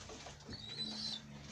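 Soft, low pigeon coos close by, with a faint higher chirp and light rustling in the background.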